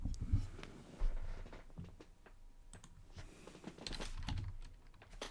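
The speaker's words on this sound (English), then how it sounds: "Let me take the keyboard off the table where the microphone is so that you can enjoy the clickety-clickying a little bit less" Computer keyboard typing close to a microphone: irregular bursts of clicky keystrokes with occasional heavier thumps and pauses, moderately loud and fairly continuous.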